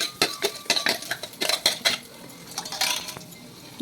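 A spoon scrapes and clinks against a metal vessel while green chilli paste is stirred into buttermilk mixed with gram flour, quick close rhythmic taps followed by a softer swishing stir, with no talk.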